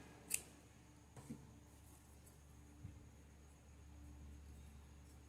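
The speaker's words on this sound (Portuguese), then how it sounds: "Concluí, vou cortar o fio." A pair of scissors snips through crochet yarn while finishing an amigurumi Santa Claus, giving one sharp, quiet cut followed by a softer second snip in an otherwise hushed room.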